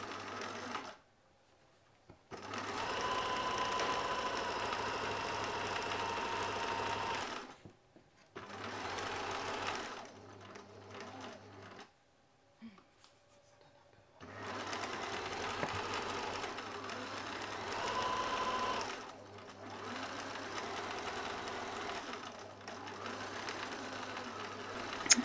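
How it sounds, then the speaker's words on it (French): Sewing machine stitching a drawstring channel seam on a lined bulk-food bag, running in several steady bursts with short pauses between them, close and fairly loud, no talking. "La couture qu'on va faire maintenant, elle va servir à faire passer la cordelette."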